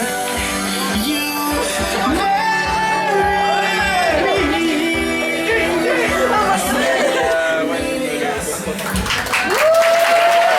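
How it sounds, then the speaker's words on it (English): Audience clapping and lively chatter at a Jack & Jill swing dance competition in Bordeaux in 2020, moderately loud and continuous, mixed with voices and tonal sounds throughout. "Allez, applaudissements fort."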